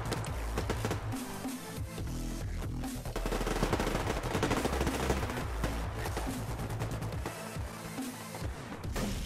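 Sustained rapid gunfire from the multiplayer shooter Survarium rattles almost continuously, with dense automatic bursts layered over one another at steady loudness and no voices.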